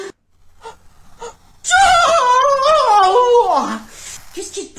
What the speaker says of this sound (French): C'est très bizarre de bailler comme ça.